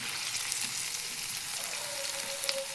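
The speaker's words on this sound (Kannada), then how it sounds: "ಸಣ್ಣ ಕೈಯಲ್ಲಿ ತಿರುಗಿಸ್ಬೇಕು ರೀ, ಯಾಕಂದರೆ ಎಣ್ಣೆ ಸಿಡಿಯುತ್ತಲ್ಲ" Sliced okra fries in a pan of oil with a continuous soft sizzle and light crackling spatter, close and even throughout, with no voices.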